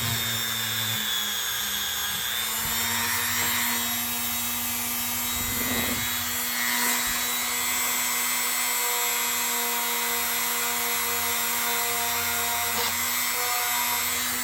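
Vintage Colonial Stockman pocket knife being buffed with black emery compound on a motorized buffing wheel, a steady whine and hum running throughout with brief rough surges as the blade meets the wheel.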